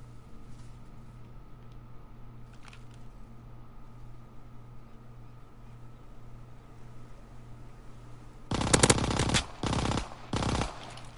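Video game weapon fire after a long stretch of low engine-like hum, three loud bursts of automatic shots in quick succession near the end.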